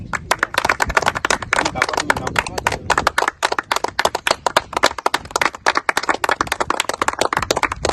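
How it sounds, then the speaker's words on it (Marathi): An audience at a ceremony marking the anniversary of the Lonar Lake sanctuary in Buldhana claps in a dense, steady burst of applause that runs through the whole stretch, with a few voices mixed in. "टाळ्या वाजवायच्या आपल्याला"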